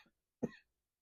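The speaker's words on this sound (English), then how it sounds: "I'm going to cough." A single short cough from a woman, close to the microphone in a quiet room, preceded by a faint breath.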